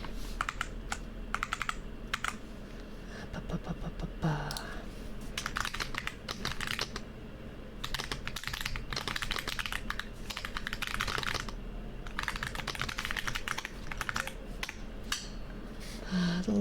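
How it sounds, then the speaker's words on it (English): Computer keyboard tapped and typed on close up for ASMR, a dense, continuous patter of crisp key clicks in uneven bursts, with no voices. "Tappy's on the keyboard."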